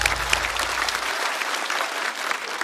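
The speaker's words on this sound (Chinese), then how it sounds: "再次掌声送给" A stand-up comedy audience claps and cheers together in steady, dense applause, loud and close throughout.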